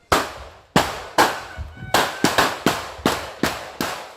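Roughly a dozen sharp gunshots crack out in an irregular volley, each with a short echoing tail, loud and fairly close, with no talking.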